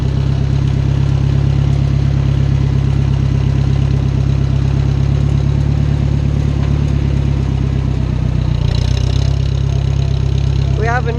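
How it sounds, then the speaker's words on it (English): A farm tractor engine idles steadily and loudly close by, a low continuous throb running the whole time, with a faint clatter near the end. "this tractor is a good tractor"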